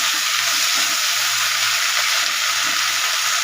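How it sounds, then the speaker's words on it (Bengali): Drained spinach going into a pan of frying lentil masala, giving a loud, dense, continuous hiss of frying that holds steady throughout. "আগের থেকে জল ঝরিয়ে রাখা পালং শাকটা এখানে দিয়ে দিলাম"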